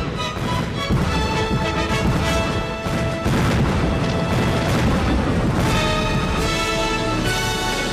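Fireworks, like the display at the Beijing Olympic Games, burst in a few heavy booms and crackling blasts spaced seconds apart, over a continuous musical backdrop.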